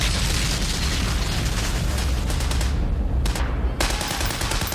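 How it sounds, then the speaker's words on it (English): Battle gunfire from the Saving Private Ryan war film, with tanks in the scene: a loud, dense, continuous barrage of shots and booms with no speech, briefly thinning near the end before resuming. "so we had the sound of the tanks and the sound of the guns"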